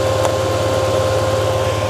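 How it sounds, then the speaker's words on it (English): Yamaha TMAX 500 scooter engine idling up close, a steady loud low rumble with an even throb and a faint higher whine, no talk. "Okay, the bike is finally idling. It's running."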